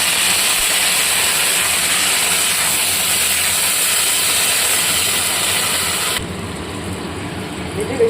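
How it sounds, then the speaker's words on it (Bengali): Water poured into a hot pan of shahi pulao with fried dry fruits, giving a loud, steady rushing hiss of steam that carries on for several seconds, then drops to a softer simmering hiss near the end. "এবার আমি জল দিয়ে দেবো।"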